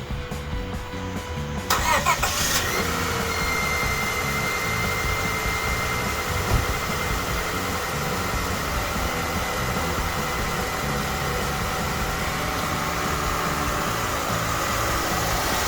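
A car engine cranks and catches after a quiet moment, then settles into a steady, even idle that runs on close and continuous, with no talking.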